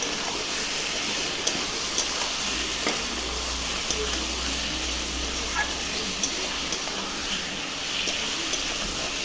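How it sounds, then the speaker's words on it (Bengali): Meat seasoned with cumin powder and Kashmiri chilli powder sizzles as it braises in a pan. A steady, dense frying hiss goes on throughout, with occasional soft stirring clicks and no voices. "10 মিনিট ভালো করে আমি কষিয়ে নিচ্ছি মাংসটা"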